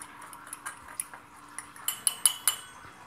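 A spoon mixes a spice blend of black pepper, salt and celery seed in a bowl, giving a quiet run of light clinks and taps that grows into sharper ticks near the end.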